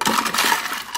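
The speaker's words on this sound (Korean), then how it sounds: "그리고 여기에 얼음을 넣겠습니다." Ice cubes tumble into a glass of soy milk drink mixed with roasted grain powder, giving a dense, continuous clatter of clinking for about a second, close and fairly loud.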